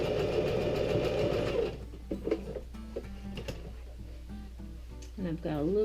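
A sewing machine whirs in a fast, steady run, sewing a wide, short-length zigzag back stitch over a patch on a pair of pants, then stops and a voice talks.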